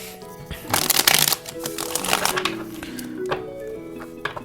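Tarot cards are shuffled by hand in quick, crisp riffling bursts, close and fairly loud, with soft background music underneath.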